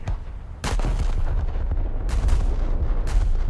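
Naval guns firing in War Thunder during a naval battle, a loud booming blast followed by a sustained rumbling roar with further heavy shots cracking out at about two and three seconds.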